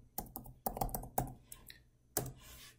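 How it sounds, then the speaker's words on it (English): Keystrokes on a computer keyboard as a word is typed into a search box, a quick run of distinct clicks in short bursts with small pauses, close and clear with no talking. "there's a search window, and if you type in bookstore,"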